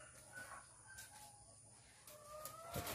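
Farm chickens kept at a rural provincial home cluck in short, sporadic calls at moderate distance, with a sharper call near the end against a quiet outdoor background.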